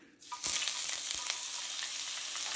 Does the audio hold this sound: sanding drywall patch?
no